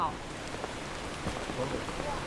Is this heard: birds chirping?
no